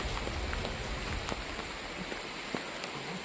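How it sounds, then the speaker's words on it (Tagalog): Rain falls steadily as a dense, even hiss of drops on a surface, with a few sharper individual drips and taps, heard alone and fairly quiet with no talk. "Ulan."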